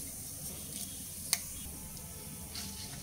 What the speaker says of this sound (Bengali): 10 সেকেন্ড মতো ফোড়নটাকে ভেজে নেব